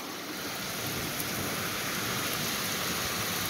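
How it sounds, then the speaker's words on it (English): Heavy torrential rain pours steadily beside a flooding greenhouse and driveway in a thunderstorm, a dense continuous hiss close by with faint low rumbles of thunder underneath. "some lightning, thunder, plenty of rain"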